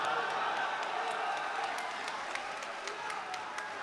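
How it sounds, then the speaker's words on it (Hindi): Audience applause at a mushaira Urdu poetry recital, a steady wash of clapping from a crowd, fairly distant and even, with scattered sharper claps. "तालियां।"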